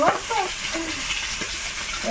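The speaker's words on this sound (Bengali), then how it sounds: "মাছ করা গিয়ে ভাজা হয়ে গেছে চটপট করে আওয়াজ হচ্ছে" River fish frying in a pan of hot oil, crackling and spitting in small pops with a soft bubbling sizzle underneath, close up, with a voice talking over it.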